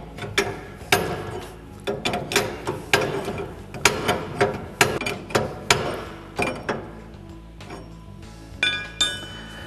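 A wrench tightening the nut on a John Deere Gator track carriage rubber damper, a string of sharp metallic clinks and ratchet clicks in an uneven rhythm, close and clear, with no talk.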